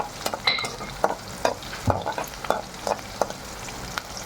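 Chopped green chillies fry in hot oil with browned onions for a chicken curry, a soft sizzle broken by sharp spatula scrapes and taps against the pan at an irregular rhythm, close and quiet.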